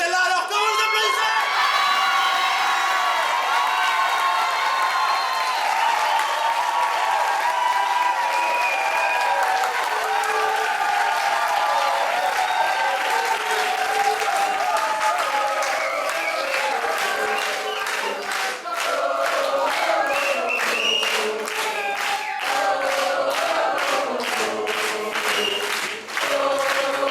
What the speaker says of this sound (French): alors comment vous applaudissez?